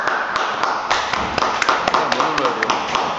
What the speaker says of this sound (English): Applause for government whip.